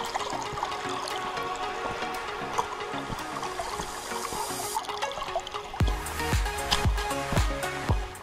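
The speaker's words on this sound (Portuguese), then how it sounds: "Ou consegue-se ouvir a água a cair" Mountain water in the Serra da Freita pours and trickles down into a hole near the old Regoufe mines, a close, steady splashing flow with gurgling bursts toward the end.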